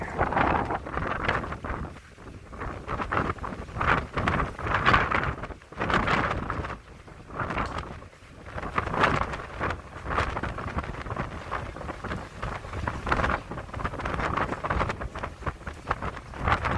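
Wind gusting across Folly Beach in Charleston after Hurricane Dorian, a steady broadband roar buffeting the microphone in uneven surges with no talking.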